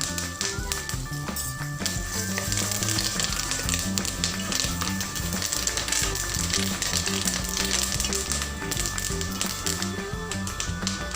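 Curry leaves crackle and sizzle in hot oil for a spicy puffed rice mixture, a steady busy spattering with small taps throughout, fairly quiet and close.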